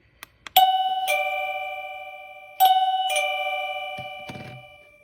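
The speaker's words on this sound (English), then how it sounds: "I put both receivers on to see if they both chime at the same time." Two wireless caregiver pager receivers play a ding-dong chime together, clear and close with ringing decay, sounding twice in a row and followed by faint handling clicks.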